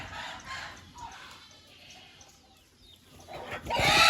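Native country-breed chickens on a farm, giving scattered soft clucks and short calls, close by, with a louder burst of flapping or cackling near the end.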